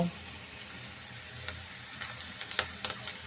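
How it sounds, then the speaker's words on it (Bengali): Onions sizzle steadily in a hot pan for a spinach bhaji, with scattered crackles and pops over an even frying hiss, close and moderately loud, with no voices. "পেঁয়াজটা ভাজা পর্যন্ত অপেক্ষা করব।"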